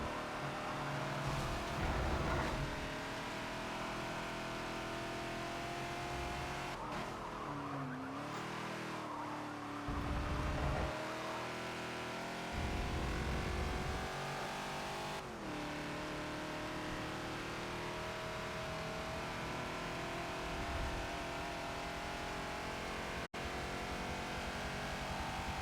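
Ford Falcon XB race car at Road America in Forza, engine droning steadily and loudly throughout, with throttle shifts and brief tire squeal through corners.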